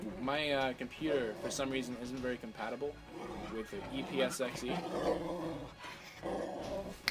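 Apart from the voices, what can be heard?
dog growling in the room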